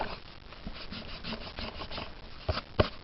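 An eraser rubs out part of a pencil drawing of R2-D2 from Star Wars, giving soft, faint back-and-forth scrubbing strokes on paper, with a couple of sharper taps near the end.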